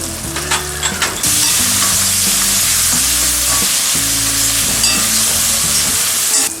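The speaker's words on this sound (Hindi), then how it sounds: "टमाटर और अनियन अच्छी तरह से फ्राई हो गए हैं" Tomatoes and onions sizzle loudly in a pan for a Ragda Chaat street-food recipe, a steady close frying hiss that starts after a second of clattering and continues alongside scraping stir strokes.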